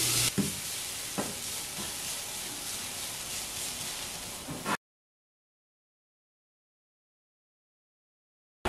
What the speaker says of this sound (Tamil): இப்போ இதையும் போட்டு லைட்லி கோல்டன் ப்ரௌனா வறுத்தெடுப்போம்